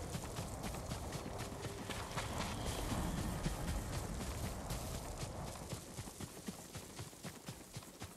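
Horse hooves gallop at a steady, rapid clip-clop across terrain in Ghost of Tsushima, fairly close and continuous throughout, with ambient game sound underneath and no talking.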